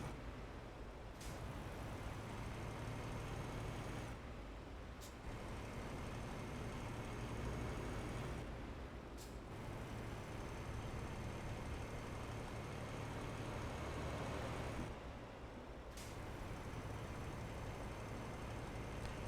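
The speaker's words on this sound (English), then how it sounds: "Should make the sound of the truck a little bit louder." Truck engine in Euro Truck Simulator, a steady low drone running throughout, with a few short breaks where the rumble lightens, apparently gear shifts, heard alone at a faint level.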